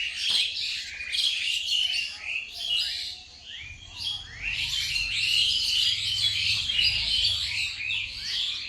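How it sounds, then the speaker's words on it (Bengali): Birds chirp and twitter in the morning from an old banyan tree on a riverbank, many bright overlapping calls close by with a low rumble underneath. "সকালবেলা পাখিদের কিচিরমিচির ভালোই লাগে।"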